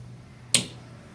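A relay solenoid actuating gives a single sharp, close click against a faint steady background hum.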